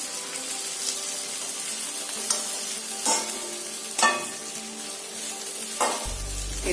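Food frying in a pan with steady sizzling, turned over now and then, each turn giving a brief scraping clatter at roughly even intervals, close and fairly quiet.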